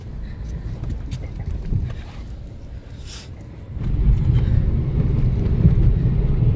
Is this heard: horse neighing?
no